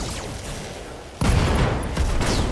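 A missile salvo launched in the mech combat video game Battletech: a burst of rapid crackling blasts erupts at 1.2 seconds and keeps rumbling loudly to the end, after a quieter mechanical hum.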